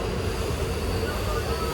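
Dooars Queen passenger train rolling slowly along the track, a steady low rumble and hum of wheels and carriages filling the clip without pause.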